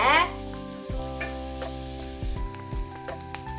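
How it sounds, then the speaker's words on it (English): Onions fry in a pan with a steady sizzle while a utensil stirs them, scraping and knocking against the pan in irregular strokes, close up with no talking. "So onions are nicely frying as I'm stirring them there."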